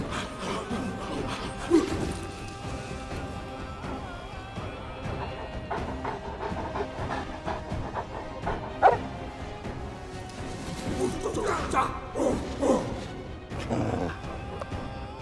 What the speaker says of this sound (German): Der angebetete Hund oder wie?